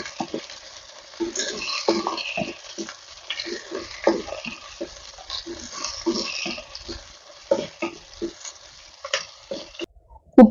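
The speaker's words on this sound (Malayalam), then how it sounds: "അരിഞ്ഞു വെച്ചിരിക്കുന്ന പച്ചമുളക്, ഇഞ്ചി, വേപ്പില, ചെറിയ ഉള്ളി, വെളുത്തുള്ളി, സവാള ഇത് നമുക്ക് ചേർത്തൊന്ന് വഴറ്റി എടുക്കാം" Green chili, ginger, curry leaves, shallots, garlic and onion sautéing in a pan over a wood-fired stove, with soft sizzling, scattered stirring clinks and scrapes of a utensil, fairly close, with no talk.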